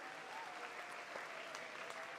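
Applause for the band at a high school Veterans Day ceremony, a steady, dense wash of clapping from the audience sustained evenly throughout without pause.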